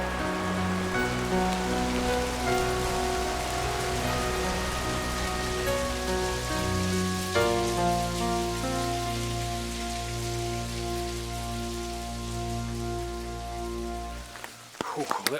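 Rain falling on outdoor surfaces, a continuous wash of patter heard under a steady tonal hum that shifts midway, ending with a few louder knocks.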